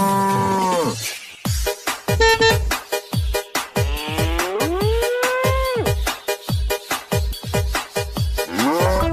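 Cartoon cows mooing repeatedly in a children's song about a colourful truck carrying cows, the moos long and tonal, sliding in pitch over a steady, bouncy music backing, loud and close.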